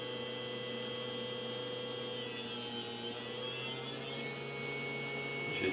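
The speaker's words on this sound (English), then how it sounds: "this machine makes the motor run so smooth compared to all the other ones" An electric motor driven by a so-called free energy machine runs with a steady, smooth hum, holding an even tone throughout with no voices.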